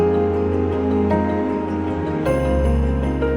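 A breezy orchestral piece from the Final Fantasy XVI soundtrack plays a short sustained passage that swells and brightens partway through, heard alone and without voices.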